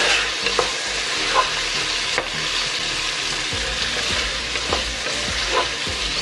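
Onion and garlic being sautéed in oil in a pan for a Filipino mung bean stew, a steady loud sizzle with repeated scraping stirs of a spoon, close up and without talk.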